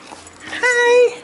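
A dog gives a single high, drawn-out whimper that rises into a thin whine and then fades. It is close and brief, and soft talk runs underneath it.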